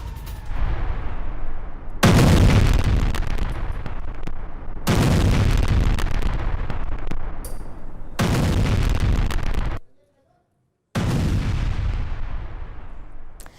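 Heavy booming blasts from an attack on a residential area of Zaporizhzhia, Ukraine, come in four long, loud roaring bursts separated by brief gaps, with a short silence near the end.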